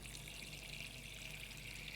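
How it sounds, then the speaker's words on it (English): Water poured into a bowl during a hygiene routine, a quiet, steady hiss-like trickle lasting about two seconds, faint and continuous with no talking. "I'll pour my water in my bowl"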